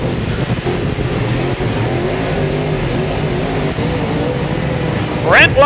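Late model race cars accelerate around the short track at The Masters in a heat race, engines droning loud and steady with rising revs, under a commentator's talk.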